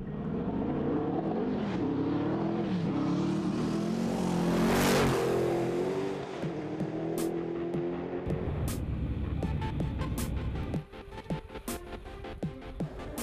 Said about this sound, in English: Paul Dallenbach is back again with one of the most powerful cars ever run at the Hill Climb